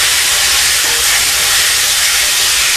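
A loud, steady hiss of chopped tomatoes landing in a hot pan of browned fried onions, a broad sizzle held evenly throughout with no talking.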